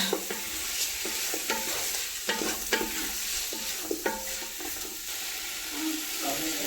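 A spoon stirs biryani in a pot, giving repeated scraping and clinking strokes in an uneven rhythm over a low sizzling bed, close by, with faint talk at moments.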